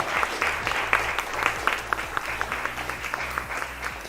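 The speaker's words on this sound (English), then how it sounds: "you can give that a huge, huge round of applause." An audience at an awards evening applauds the launch of a magazine issue, with steady, dense clapping that carries on at an even level for several seconds.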